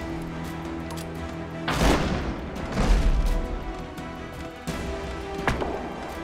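Ship cannons fire at an enemy sail in the naval combat game Abandon Ship: two heavy booming volleys with rumbling tails, then a sharper crack near the end, over a steady background hum.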